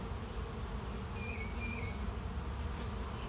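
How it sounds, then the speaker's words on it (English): A dense, steady buzz of many honeybees on hive frames fills the air, constant and close, with a faint higher whine drifting through briefly. "There's quite a few bees in there on them frames now."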